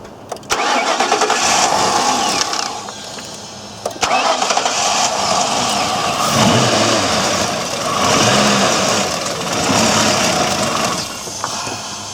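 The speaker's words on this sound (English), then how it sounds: "let's see if we get this thing to crank up" A 2004 Ford Crown Victoria with a suspected fuel delivery problem cranks and fires, its engine catching and running loudly up close with brief starter grinding at the start and a short break partway through.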